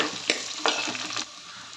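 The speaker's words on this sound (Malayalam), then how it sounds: "ഇനി ഇതിലേക്ക് പച്ചമുളക് ഇട്ട് കൊടുക്കാം ഒന്ന് ഇളക്കി കൊടുക്കാം" Green chillies stirred into sautéing shallots in hot oil sizzle steadily at close range, with two sharp scraping stir strokes before the frying settles into a quieter hiss.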